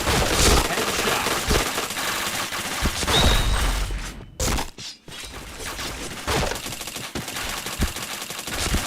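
Rapid bursts of automatic gunfire crackle loudly in a first-person shooter match, with dense volleys broken by a brief lull before more shots and sharp cracks.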